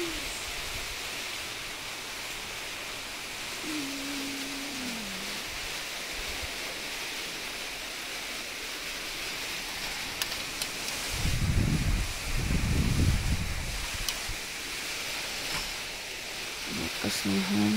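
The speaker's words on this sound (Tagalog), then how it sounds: "Lakas ng hangin." Strong typhoon wind and rain under Signal No. 1 conditions make a steady, loud broadband roar and hiss throughout, with a brief low rumble and faint voices around the middle.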